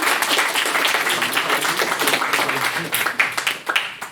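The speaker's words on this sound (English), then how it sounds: "Round of applause for brownies." A small group claps and taps briskly in a lively round of applause for brownies, close and fairly loud, with some uneven sharp claps and a little background chatter throughout.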